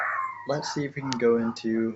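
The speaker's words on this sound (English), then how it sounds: "sorry about the dogs barking guys." Dogs bark and howl in short bursts close by while a person talks over them.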